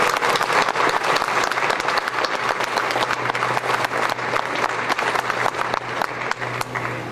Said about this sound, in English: And so I want everyone here to give a round of applause to the people of Northwest Airlines.